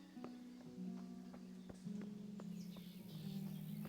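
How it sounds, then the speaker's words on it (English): Birds chirp in scattered short calls across the countryside of the video game Kingdom Come: Deliverance, soft and fairly distant over a steady low ambient drone, with no talking. "I can hear the birds chirping."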